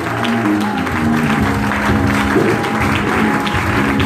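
A church congregation applauds and cheers for the Lord, with dense sustained clapping mixed with voices and shouts, and music held underneath.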